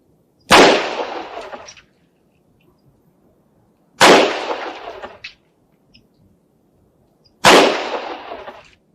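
Three loud handgun shots at a firing range, evenly spaced about three and a half seconds apart, each a sharp crack with a short decaying echo and near silence between.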